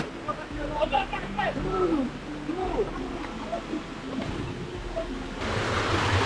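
A strong water current rushes at a waterfall with a continuous broad roar, while voices talk over it.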